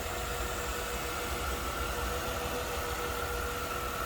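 A 2008 Chrysler Crossfire Limited Roadster's 3.2 liter engine idles smoothly and steadily, a close, constant mechanical hum with faint whine, with no talk over it.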